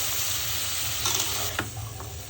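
Tender vegetable stalks tossed into a hot pan of fried shrimp, giving a steady close sizzle with a scrape of the spatula partway through, no voices.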